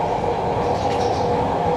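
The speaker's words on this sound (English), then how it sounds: "Well, we made it on the metro, which wasn't bad." Steady, loud rumble of an Athens metro train in motion, heard from inside the car, with a continuous low roar and rail noise throughout and no talking.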